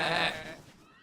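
A cartoon sheep bleats once, a short wavering cry that fades quickly to quiet, heard alone without talk.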